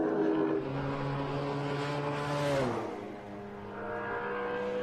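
Vintage race car engine at Phillip Island during a Victorian State Race Series round, roaring loudly down the straight with a strong harmonic whine that drops in pitch as it passes close by, then another engine building again.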